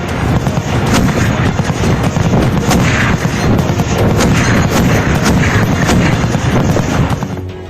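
Artillery and heavy gunfire during a large joint military war exercise by the Russian, Chinese, Indian and Pakistani armies: loud, dense, continuous booming and cracking volleys throughout, with no voices.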